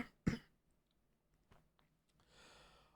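A single sharp cough from someone still recovering from being sick, loud and close, followed by faint breathing and low background noise.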